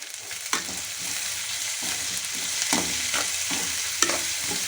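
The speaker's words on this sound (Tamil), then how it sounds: "பச்சை மிளகாய் சேர்த்து கூட வந்து கறிவேப்பிலையும் சேர்த்துக்கலாங்க. சேர்த்து நல்லா வதக்கி எடுக்கலாங்க." Green chilies and curry leaves sautéing in a pan as tempering for lentil adai batter, a continuous close sizzle punctuated by a few sharp spoon scrapes and clacks, no talking.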